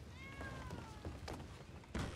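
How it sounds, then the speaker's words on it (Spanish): A cat meows on a cold, rainy night, with harmonic cries rising and falling near the mic over background noise and a few dull thumps. "A ver, gato, a mí no me maulles así"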